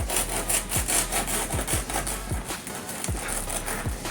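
Crunchy crust of a cooling no-knead artisan loaf crackling in a rapid series of dry, rasping crunches, close and fairly quiet, with no talking.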